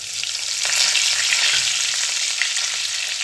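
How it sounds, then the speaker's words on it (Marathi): Curry leaves hit hot leftover oil for a tempering in a poha chivda, giving a loud, continuous, close sizzle and crackle that holds steady without pause. "आपण सर्व जिन्नस तळून घेतलेले आहे त्या उरलेल्या तेलामध्येच मी फोडणी देणार आहे."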